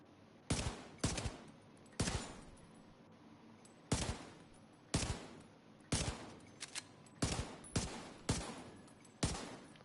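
Liberty handgun in The Division 2 fired in a steady series of sharp, separate shots, about ten loud cracks roughly a second apart, each with a short echoing tail.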